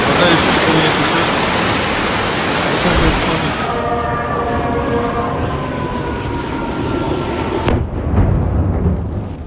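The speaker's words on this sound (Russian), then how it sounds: "Вода еще сильнее течет." Strongly flowing water roars loud and unbroken. A sustained tonal hum rises over the rush for a few seconds partway through.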